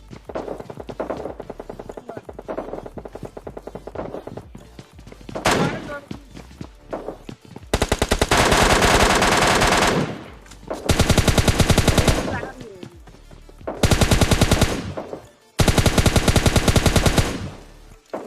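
Bursts of rapid automatic gunfire, loud and close, coming in several long volleys separated by short pauses, with scattered single shots and thuds between.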